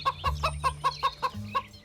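A cartoon chicken clucks in a quick, evenly spaced run of about eight short, bright clucks, close and clear over a faint low hum.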